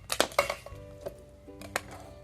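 Mango slices being dropped into a steel mixer jar, with a few sharp metallic clinks and clatters close up, followed by quieter ringing taps in a home kitchen.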